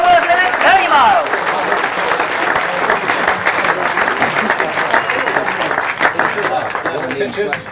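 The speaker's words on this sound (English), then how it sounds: "Big round of applause once again for our sidecar winners, Dominic Solis and Simon Green" Sustained applause from a crowd for the sidecar winners at the 2000 World Longtrack Championship, dense clapping throughout with a few cheers and voices mixed in.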